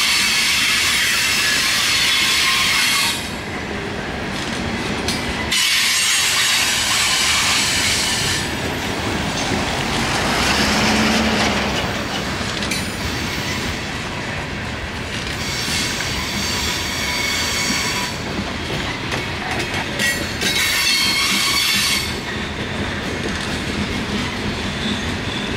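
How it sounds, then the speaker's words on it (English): Loaded CSX coal ash freight train led by AC44 and ES44 locomotives working hard uphill in notch 8 near Lincolnton, a steady loud roar of engines with rolling wagons and wheel noise, no talk. "this is a totally loaded coal ash train"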